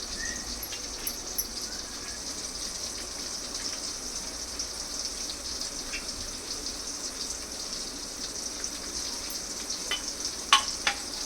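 Steady, gentle sizzling of mustard seeds and spices frying in hot oil for idli upma, continuous and close, with a few small crackles and pops near the end.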